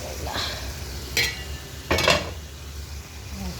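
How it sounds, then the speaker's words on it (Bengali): Meat curry in a pot, a low bubbling simmer with a couple of sharp metallic scrapes and clinks from a spoon stirring against the pot, close and fairly quiet. "এখন মাংসটা দেখি বলক আসছে কিনা"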